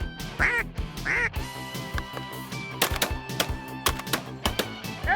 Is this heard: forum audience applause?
no